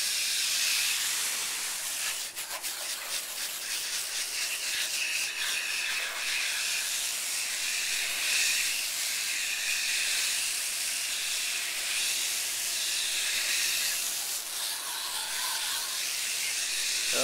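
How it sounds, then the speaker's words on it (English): A water hose sprays continuously against a residential HVAC condenser's double-row coil, making a steady close hiss with slight fluctuations as the stream moves across the fins. "I'll just keep rinsing from the inside out and then down the side of the coil until I don't see any more dirt coming out."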